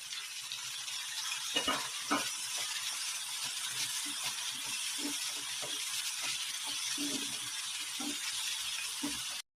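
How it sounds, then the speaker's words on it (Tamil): Onions and tomatoes sizzle steadily in hot oil in a pan, a continuous close frying hiss broken by soft stirring scrapes and clicks, with no voices. "இப்போ திரும்பவும் நல்லா வதக்கிடலாம்."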